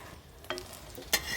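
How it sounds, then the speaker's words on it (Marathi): Cluster beans (guar) roasting on a wood-fired chulha, a soft crackle punctuated by a couple of brief scraping stirs, close and quiet with no voices. "गवारी शेंग भाजून घेते"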